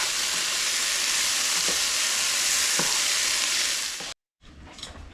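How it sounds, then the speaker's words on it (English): Seasoned steak meat frying in a pan for a Philly cheesesteak is stirred while it cooks, producing a loud, dense sizzle with occasional scraping stirs. The sizzle cuts off abruptly near the end, then resumes briefly and more faintly. "So we'll stir this up and get our meat cooking here."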